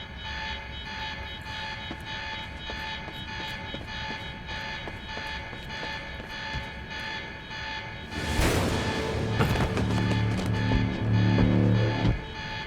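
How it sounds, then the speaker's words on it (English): Alarm rings in a building in Quantum Break, a steady buzzing tone with regular pulses that continues throughout, joined near the end by a loud burst of clattering noise and a harsher repeating alarm blare. "That alarm's not gonna make my life any easier."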